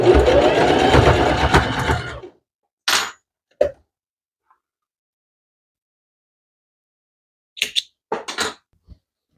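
A domestic sewing machine stitches a fabric cover in a steady, loud whirring run for about two seconds, then stops, followed by a few short clicks and knocks.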